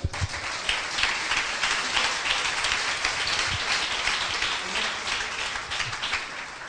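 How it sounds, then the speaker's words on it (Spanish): A congregation at a Spanish-language church service applauds with steady, fairly soft clapping that runs evenly through the whole stretch. "Un aplauso fuerte al Señor."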